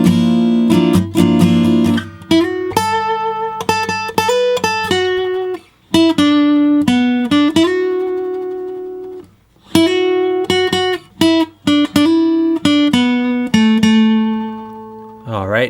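Acoustic guitar playing the first two lines of the solo to a song slowly, single picked notes and bends ringing out close and clear, with a couple of brief pauses between phrases and no talking.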